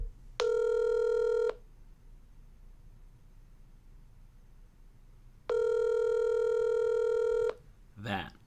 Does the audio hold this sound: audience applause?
no